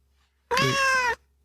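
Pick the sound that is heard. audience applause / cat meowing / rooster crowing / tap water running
cat meowing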